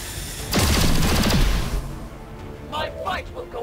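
Gunfire in the XCOM 2 War of the Chosen strategy game, a loud rapid burst of automatic shots lasting about a second, followed by trailing rumble and a player's voice talking over the end.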